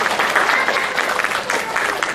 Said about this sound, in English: Let's give them a big round of applause and marha marha.